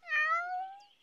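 A cat in an animated cartoon gives a single clear meow, short and rising then falling, close and alone against silence.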